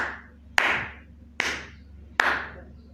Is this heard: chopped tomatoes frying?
no